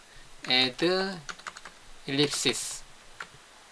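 Ctrl+C and Ctrl+V keystrokes on a computer keyboard make a few brief, light clicks scattered between stretches of someone talking.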